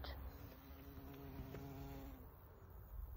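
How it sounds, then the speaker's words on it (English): A steady, faint insect buzz drones continuously throughout, low and close, with no voices. "Bees."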